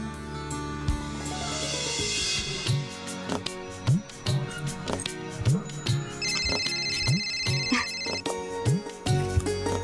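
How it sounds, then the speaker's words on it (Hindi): A mobile phone ringtone plays a repeating electronic melody for an incoming call, loud and close, with rhythmic pulses recurring across the whole stretch. "श्वेता का मिस कॉल"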